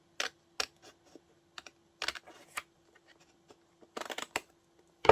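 Scissors snip through paper for a surreal collage in sparse, irregular crisp cuts, close up, some landing in quick pairs, over a faint steady hum.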